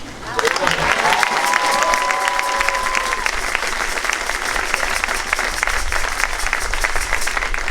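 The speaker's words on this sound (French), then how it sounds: "Encore 2 applaudissements. Applaudir nos mamans." A church congregation at a closing Mass applauds steadily, a dense continuous clapping that fills the space; a few sustained sung or whistled tones ring over it early on, and murmuring voices sit underneath.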